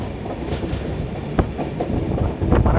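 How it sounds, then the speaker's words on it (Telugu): Swarnajayanti superfast express (12804) rolling on the rails while negotiating a gentle curve near Tadepalligudem, with steady broadband rumble, rhythmic wheel clicks over rail joints, and a few sharp clanks, heard close from inside the moving train. "మన ట్రైన్ అయితే చిన్న టర్నింగ్ తీసుకుంటుంది"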